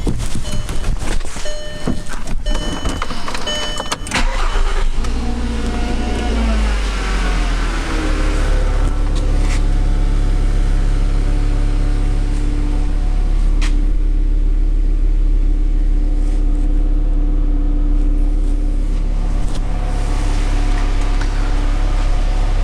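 Volkswagen Jetta with a new exhaust: clicks and cranking give way to the engine catching, then a loud, close, steady low idle rumble with a deep exhaust drone continuing for many seconds.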